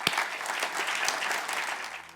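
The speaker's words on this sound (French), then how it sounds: "je voudrais sans plus tarder qu'on puisse accueillir Nora sous vos" Church congregation applauding at a Sunday baptism service, a dense steady wash of clapping from many hands filling the room, with a sharp louder clap at the start.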